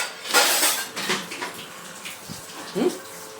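Dishes being washed at a sink by a mother, with intermittent clinks of pots and utensils and splashing water in irregular bursts, fairly close.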